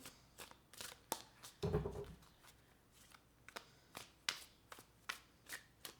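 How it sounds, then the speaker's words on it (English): Tarot cards are shuffled by hand for a reading: a quiet, close series of crisp riffles and snapping slaps, with one longer rustling shuffle in the middle. "let's go ahead and pull some cards from the universe here"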